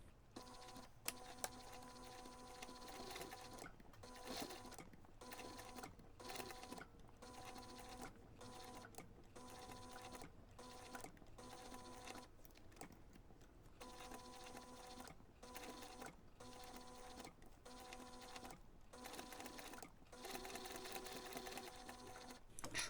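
A sewing machine stitches a small photo keychain with a short stitch length, pivoting around curves; steady close mechanical whirring runs in bursts separated by brief pauses as the fabric is turned.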